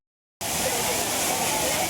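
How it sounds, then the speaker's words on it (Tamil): Water roars down Agasthiyar waterfall at Papanasam in Tirunelveli district, a loud, dense, steady rushing wash that starts abruptly after a short silence and continues unbroken. "நெல்லை மாவட்டம் பாபநாசம் அகஸ்தியர் அருவியில் தண்ணீர் ஆர்ப்பரித்து கொட்டுவதால்"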